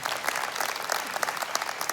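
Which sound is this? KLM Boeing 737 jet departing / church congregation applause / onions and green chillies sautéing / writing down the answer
church congregation applause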